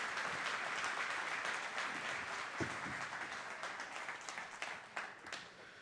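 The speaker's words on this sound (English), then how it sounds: "Can you give them a round of applause?" A church congregation applauds Randy and Jesse with a continuous wash of clapping, fairly distant and quiet, slowly thinning toward the end with a few louder claps near the close.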